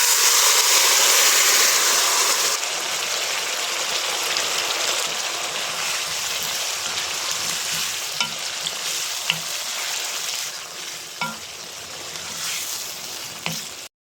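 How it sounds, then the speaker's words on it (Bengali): Whole chillies, onion and garlic fry in hot oil, a dense continuous sizzle that starts loud and bright, then settles into a softer crackle with occasional stirring clinks. "এখন খুব ভালো করে এটাকে ব্রাউন করে ভেজে নেব।"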